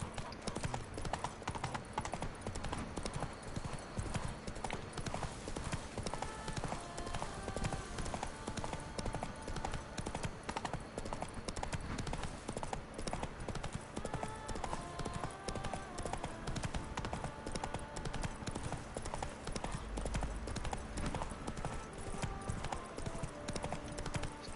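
Horse galloping across terrain in The Witcher 3, a steady, rapid clip-clop of hooves running continuously and loudly up close under game music, with a brief low thump near the end.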